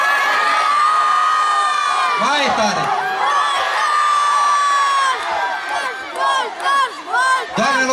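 At an outdoor city festival concert in Vaslui, Romania, a large crowd shouts and cheers the name of a band in loud rhythmic bursts, with children's voices standing out and an amplified announcer's voice heard briefly.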